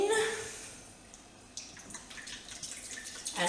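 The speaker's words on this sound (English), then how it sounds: "So I'm going to pour the milk in" Milk, a little under two litres, poured into a container for homemade yoghurt, giving a steady splashing trickle that settles into softer pouring and dripping.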